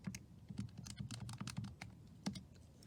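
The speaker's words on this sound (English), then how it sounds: "type that into your calculator" Rapid clicking of keys as numbers are punched into a calculator, a quick irregular run of crisp taps close by, alone with no talking.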